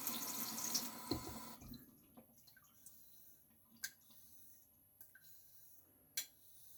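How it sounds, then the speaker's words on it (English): Tap water running from a faucet onto a Dovo inox straight razor blade for a sharpness test, a soft splashing flow at first that stops, followed by quiet drips and small handling clicks in a hushed room. "The ultimate test for me is the running water test."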